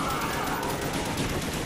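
An HK-21 machine gun fires in a zombies shooter game as a dense, continuous stream of rapid shots. The burst is steady and fairly faint, mixed with a busy game background.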